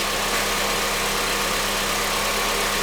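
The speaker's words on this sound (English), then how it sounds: "I know the engine's a little loud." Honda CR-V engine idling steadily and fairly loud up close, a dense continuous hum with a faint low pulse and no talking.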